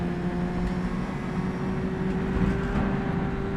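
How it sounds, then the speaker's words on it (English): A quiet historic race car with a small 60-horsepower engine in rFactor 2, a steady faint engine drone with a thin whining tone under constant wind noise, even and unbroken throughout. "I know this car is a little quiet, but it's just wind noise mostly. It's got like a 60 horsepower engine in it."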